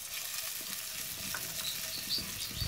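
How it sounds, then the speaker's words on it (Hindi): Onions sizzle and crackle steadily in hot ghee for a samosa filling, a close, continuous frying hiss with faint stirring scrapes and no talk. "अब हम इसमें प्याज डालेंगे"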